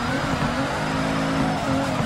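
A Nissan S15 drifts in the video game Furidashi, the engine droning loud and steady under a continuous wavering squeal of sliding tires, close and unbroken throughout.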